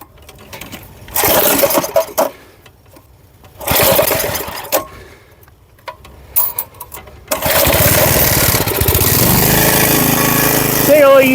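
An old snowblower engine runs while clearing snow, its buzzing drone surging and bogging in bursts with short gaps, then roaring steadily at full load; loud and close.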